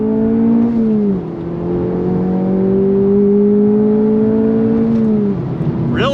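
A 2024 Acura Integra Type S, a front-wheel-drive performance car, pulls hard under throttle, its engine note climbing loudly through two or three upshifts with brief dips between gears.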